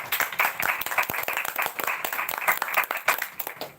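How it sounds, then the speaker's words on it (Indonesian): An audience claps at a live community chat event, a burst of uneven, close hand claps that rises and falls across the few seconds. "tepuk tangan lu buat Kak Kasih"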